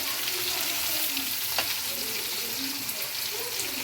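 Sliced big onions added to garlic already browned in hot oil, frying in a pan: a dense, even sizzle, close and steady, with a faint scrape of stirring partway through.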